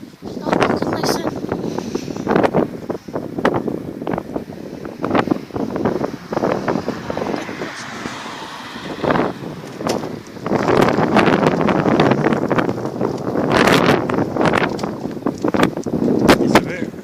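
Gusty outdoor wind buffets the microphone in broadband rushes and roars on a cold, windy street in Edinburgh, rising and falling throughout with faint talk at times underneath.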